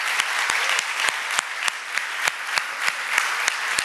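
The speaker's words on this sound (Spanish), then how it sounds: "Y yo creo que debemos darles un aplauso en señal" A church congregation applauds its youth leaders: a soft bed of many hands clapping, punctuated by sharp, evenly spaced claps from nearby that stand out in a near-regular rhythm, with no speech on top.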